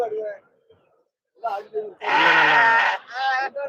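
Goats bleating at the Melapalayam goat market, one long loud nearby bleat followed by a shorter one, with people talking just before and around the calls.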